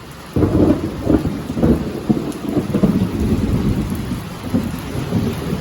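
Outdoors over dirt ground, a thunderstorm rolls loudly with deep rumbling thunder and steady rain falling throughout, no voices present.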